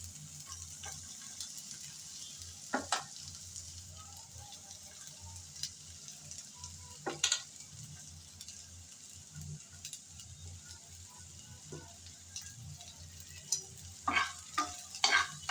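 Chopped onion and garlic fry in a pan with a soft continuous sizzle, broken by sharp scraping clatters of a spatula stirring at intervals, louder near the end.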